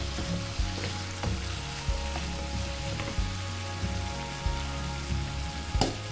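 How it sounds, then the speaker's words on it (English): Curry leaves frying in ghee with prawns for a Kundapura-style ghee roast, a dense continuous sizzle and crackle with occasional sharper pops and light stirring clinks, close and steady throughout. "Adding some more curry leaves to it because I like curry leaves personally with my dishes."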